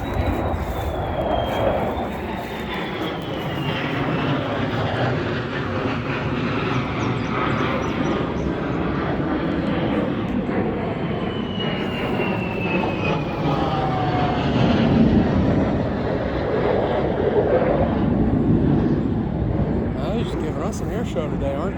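Airplanes at an air show drone overhead in a broad, steady engine rumble with slowly sweeping pitch, carrying on continuously beneath someone talking.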